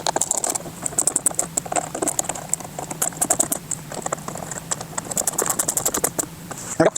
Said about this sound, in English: Now we're going to go ahead and fully tighten down all of our screws.